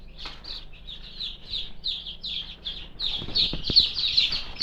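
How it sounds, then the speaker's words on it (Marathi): Native village chicken chicks peeping continuously in high, rapid cheeps, close by, growing busier and louder toward the end. "ओरिजिनल गावठी कोंबडीची पिलं आहेत"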